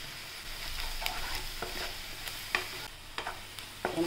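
Chilli powder, turmeric and salt sizzle in hot oil in a pan for a cowpea pod stir-fry, with a steady frying crackle and occasional sharp scrapes and clinks of a spoon stirring them.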